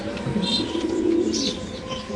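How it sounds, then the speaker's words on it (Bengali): White King and Spanish pigeons at a pigeon farm coo steadily in a low, throaty murmur, with a few higher chirps layered over a continuous, moderately loud background. "খুব সুন্দর কবুতর"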